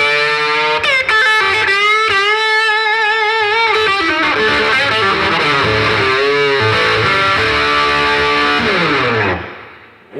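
Overdriven electric guitar played on the bridge pickup through a Big Bloom Overdrive pedal, sustained distorted chords and sliding bends ringing loud and continuous for about nine seconds before cutting off.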